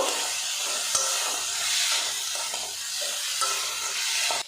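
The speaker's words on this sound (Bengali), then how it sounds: "মুসুর ডাল দিয়েছি কিছুক্ষণ নাড়াচাড়া করে ভাজা ভাজা করে নেব" Red lentils sizzling in hot oil with ginger-garlic paste, stirred steadily with soft scraping strokes under a continuous hiss, a sharp clack near the end.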